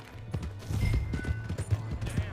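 A horse gallops in the game Red Dead Redemption 2, its rhythmic hoofbeats thudding close and moderately loud for a couple of seconds.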